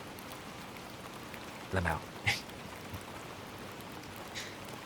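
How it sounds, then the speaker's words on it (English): Steady soft rain patters as a constant wash in the background, with a few brief louder taps and a quiet spoken word over it. "Can you hear the rain decently?"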